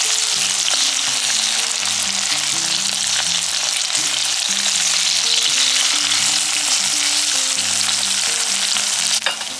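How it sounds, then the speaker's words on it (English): Onion sautéing in olive oil in a home kitchen pan, a dense continuous sizzle under steady background music, close and loud throughout, with a faint knock near the end. "I'm just gonna saute the onion a little"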